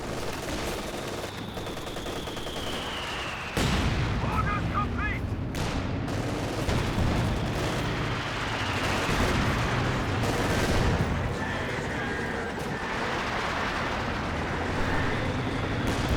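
A ZiS gun artillery barrage in Company of Heroes 2, dense booms and crackling gunfire rolling continuously, with the barrage intensifying partway through and steady battle noise layered throughout.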